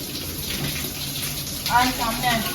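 Rain pours down outside a building during the monsoon, a steady rushing patter like running water, with someone speaking briefly over it.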